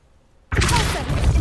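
A Revelio spell cast in Hogwarts Legacy bursts in suddenly after half a second of near silence, a loud shimmering whoosh with rising sparkly tones that holds steady to the end.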